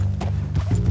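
Horse hooves clip-clop in Red Dead Redemption 2 as a horse walks along carrying a rider, a couple of close, dull thuds over a steady low background rumble.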